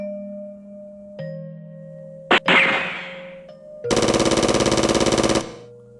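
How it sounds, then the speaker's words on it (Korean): Storybook sound effects for a pirate battle: metallic clangs and a sharp crack, then a loud rapid burst of gunfire rattling for over a second over a sustained background tone. "총소리가 요란하게 울렸어요"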